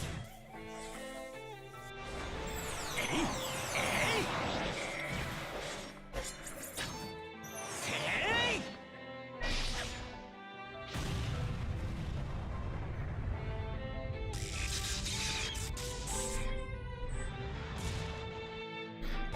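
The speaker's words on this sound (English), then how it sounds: "Does he always start with a back explosion?" Heavy explosions and crashing blasts boom through a mecha video game battle animation, loud bursts separated by brief lulls, with whooshing effects and music layered over the impacts.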